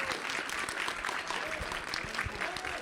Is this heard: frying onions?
no